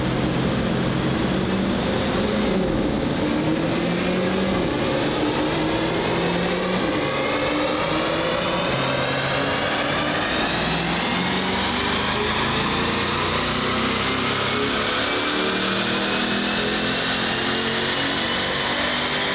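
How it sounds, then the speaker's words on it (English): A C8 Corvette engine fitted with a new billet aluminum intake manifold runs steadily and loudly on its own, with a sustained mechanical drone whose pitch slowly climbs throughout, as if revving up under load. "Mike is just gotten through running the C8 with our new manifold, and we found quite a bit of power"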